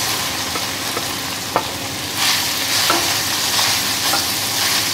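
Green chillies frying in a pan with a steady crackling sizzle, broken by a few sharp knocks of the spoon and swelling louder partway through.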